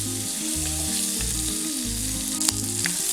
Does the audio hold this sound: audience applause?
no